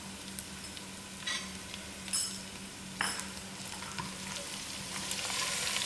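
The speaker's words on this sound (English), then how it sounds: "My onions are done now, so I'm going to throw in my masalas." Onions and masala spices fry in a pot for a Durban-style mutton curry, giving a steady close sizzle broken by a few stirring scrapes and light clinks. No talk is heard.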